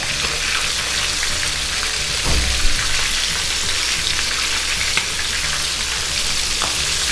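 Chicken pieces deep fry in hot oil with a loud, steady, close-up crackling sizzle, pinoy-style fried chicken, plus a brief thump of turning partway through.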